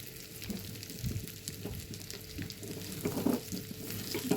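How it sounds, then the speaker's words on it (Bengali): Pieces of chicken sizzle and crackle steadily in hot oil in a pan for a milk chicken dish, a continuous close frying hiss with occasional louder pops and stirring noises. "চিকেনগুলি কি সুন্দর ফ্রাই হয়ে গেছে"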